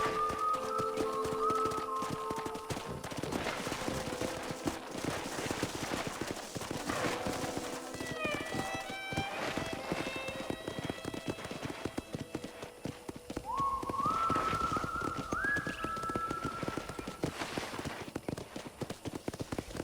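Horse hooves clip-clop steadily in the western video game Red Dead Redemption, a brisk rhythmic trot close up, layered with game music tones and occasional whinny-like sounds, no talk.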